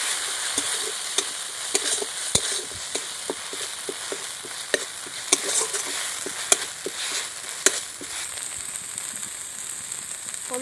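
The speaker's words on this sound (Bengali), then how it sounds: "সাদা সর্ষে, কালো সর্ষে আর কাঁচা লঙ্কা নুন দিয়ে মেটে নিয়েছিলাম, সেটা আবার দিয়ে দিচ্ছি। একটু ভালো করে কষে নেব।" Paste of white and black mustard ground with green chilli and salt frying in a pan, a steady soft sizzle broken by scattered clicks and scrapes of stirring, close and moderately loud with no voices.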